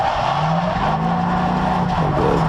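A drift car at a drifting event, clutch kicked, runs under sustained loud engine drone with a steady tire squeal that holds through the clip and shifts pitch slightly near the end, close and continuous.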